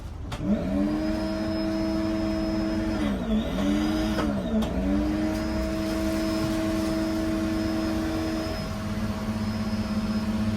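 An electric pump inflates an air mattress inside a cargo van, a loud continuous motor whine and rush of air that holds steady throughout, with a few slight dips in pitch.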